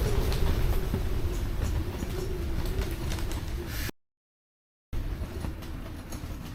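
Steady roaring blizzard wind at -44°C blows hard and continuously, a dense broadband rush with gusty swells and no voices, briefly cutting out before resuming.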